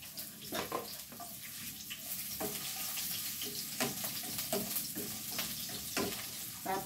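Onion and garlic sauté in a pan for a Bisaya-style sayote dish, giving a soft, steady sizzle broken by intermittent stirring and scraping clatters, with no talking.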